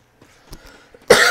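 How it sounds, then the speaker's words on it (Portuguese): A single sharp cough bursts out loud and close at the end, preceded by a few faint throat and mouth sounds. "Eita, tosse."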